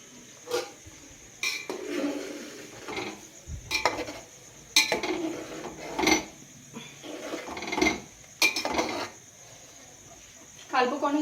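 Jaggery being stirred into payasam in a pot: a ladle scrapes and knocks around the pot in repeated rough strokes roughly every second, close and moderately loud.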